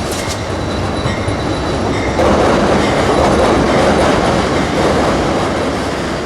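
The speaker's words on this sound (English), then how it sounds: "In a minute, Amtrak 97, the southbound Silver Meteor," Amtrak's southbound Silver Meteor passenger train passes near Lake Monroe, a loud, continuous rumble of rolling wheels with rhythmic clacking and faint squealing, close and unbroken throughout.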